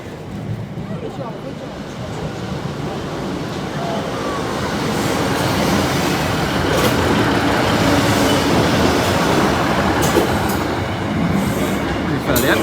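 A train passes Lincoln High Street level crossing, heard as a steady, loud rumble of rolling wheels that builds and holds with faint rail clatter, with no talk over it.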